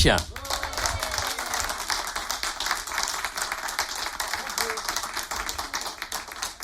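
An audience claps to welcome a singer into a radio studio, a steady patter of hands running throughout with a voice speaking over part of it.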